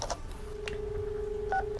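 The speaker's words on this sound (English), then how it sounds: "Who's dialing stuff?" Telephone dialing tones sound as a steady electronic tone with a short higher beep near the end, quiet and heard alone without talk.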